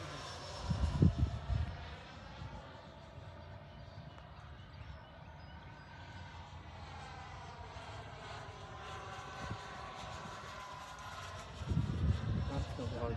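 A Piaggio Avanti S aircraft comes in to land, its engines a steady distant whine with slowly shifting tones, broken by a couple of dull thumps near the start and end.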